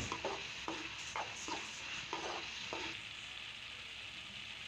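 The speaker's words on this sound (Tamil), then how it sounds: "நம்ம நல்லா வதக்கி விட்டுக்கிட்டே இருக்கணும்" Masala sautéing in oil in a pan for country chicken gravy, a steady sizzle broken by a handful of rhythmic stirring scrapes, fairly faint and without talk.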